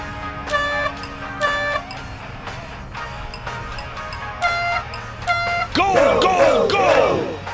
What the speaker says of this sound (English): when you construct a pattern of sounds, it unifies the fans for a chant